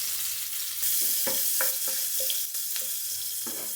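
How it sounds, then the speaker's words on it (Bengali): Chopped onion fries in hot oil left from frying katla fish, a continuous sizzle with repeated scraping and stirring strokes from a spatula, close and alone. "পেঁয়াজ ভাজা হয়ে গেছে"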